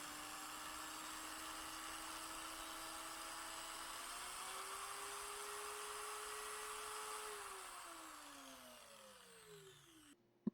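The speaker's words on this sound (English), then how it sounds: "The plastic is really hard to drill." An electric drill with a rotary bit grinds against hard plastic while making a cleaning brush, a steady high whine that rises in pitch, holds, then slows and winds down before stopping with a click.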